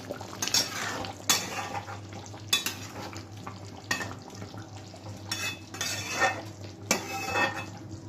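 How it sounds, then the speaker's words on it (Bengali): Pangas fish tossed with shahi spice powder in a pan: a soft sizzle under repeated scraping stir strokes and clinks of a spatula against metal, spaced about a second apart. "দিয়ে একটু নাড়াচাড়া করে নিচ্ছি মাছটা"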